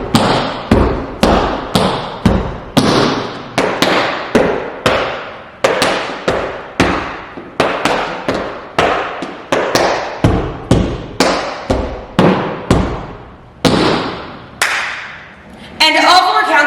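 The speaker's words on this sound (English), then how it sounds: "So those last 2 counts of 8 will sound like this." Tap dance steps in an intermediate tap combination: sharp, loud percussive taps and stomps in a brisk rhythmic pattern, each hit ringing out in a reverberant room, closing with a stomp and a clap.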